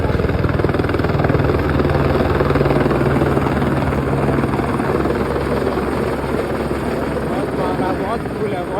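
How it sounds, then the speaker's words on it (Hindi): A helicopter flies over Kedarnath temple in a crowded mountain setting, showering flowers as the temple doors are about to open; its loud, close rotor thump and engine drone fill the whole stretch, with crowd voices mixed underneath. "हेलीकॉप्टर से फूल बरसाया जा रहा है।"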